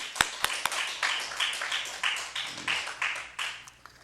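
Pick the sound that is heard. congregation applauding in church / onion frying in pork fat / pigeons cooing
congregation applauding in church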